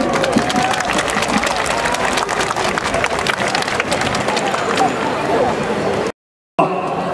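A large outdoor crowd at a climate justice march applauds and cheers as speakers are welcomed onto the stage, loud continuous clapping that breaks off into a sudden brief silence near the end.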